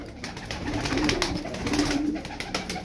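Cincik tumbler pigeons give a low, rolling coo twice in a row, close by and fairly loud, over a dense rustling background.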